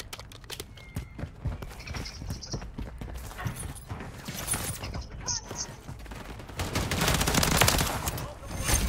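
Rapid gunfire in the video game Call of Duty: Modern Warfare 3, bursts of automatic shots and clattering footsteps that build into heavier sustained firing toward the end, with no voices.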